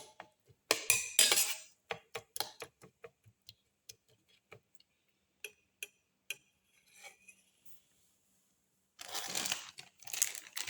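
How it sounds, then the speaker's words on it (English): Crackers crunched and crumbled by hand into omelette ingredients, crinkly crackles and scattered light ticks, with louder crunching bursts at the start and end and quiet gaps between. "Thoroughly mix and crush all the ingredients together."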